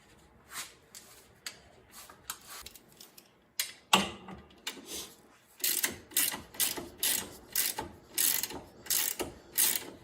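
A ratchet turns out bolts on the upper control arm of a Yamaha YXZ side-by-side, giving bursts of rapid clicking, sparse at first and then in regular loud runs, close and with no talk.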